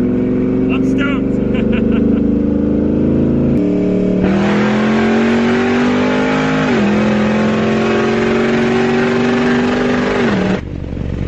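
Nitrous-equipped car accelerating hard on a highway, its loud engine droning steadily and climbing in pitch through a gear change, then cutting off abruptly near the end, with brief talk at the start.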